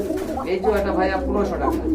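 A Gorra Rajgolla pigeon coos in soft, throaty rolls close by at a bird sale, the calls running under a voice speaking throughout.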